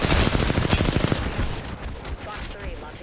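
A video game gunfight with rapid automatic gunfire: a loud, dense burst of repeated shots for just over a second, then trailing off into quieter effects and background noise.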